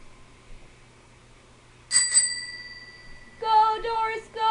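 A bicycle bell rings twice, with a bright metallic ding whose tone lingers, then a quicker burst of rapid rings follows against a quiet background.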